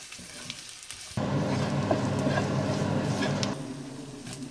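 A tablespoon of all-purpose flour frying in a pan, a steady sizzle that starts abruptly and holds for a few seconds with faint stirring scrapes, then drops back to quieter kitchen background.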